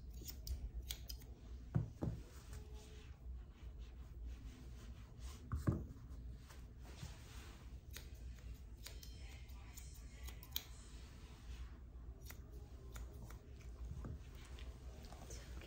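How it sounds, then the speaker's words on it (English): Scissors trimming the hair behind a Yorkshire Terrier's ears during grooming: quiet, close, irregular snips and small metallic clicks over a low, soft background, with no talk heard. "Trim this hair behind the ears."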